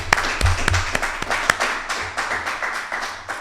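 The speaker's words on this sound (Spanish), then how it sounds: "Yo creo que se merece como mínimo un aplauso." A festival audience at a crime-fiction event gives brief, scattered applause, a handful of sharp distinct claps rather than a dense roar.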